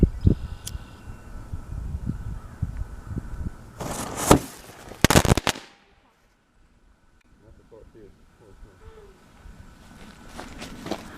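A homemade firecracker packed with straight flash powder and buried in ashes goes off in a sharp outdoor burst. Light ambient noise and shuffling come before the bang, and quiet background sound and faint movement follow it.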